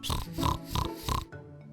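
A pig oinks and grunts four times in a steady rhythm, close and fairly loud, ending with a softer trailing grunt.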